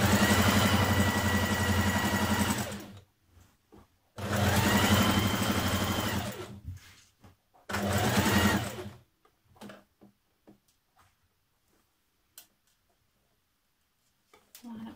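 A sewing machine stitches a trouser seam with a 1.5 centimetre allowance for a Simplicity 8389 pattern, running in three loud, close bursts separated by short pauses, then giving way to faint scattered handling clicks.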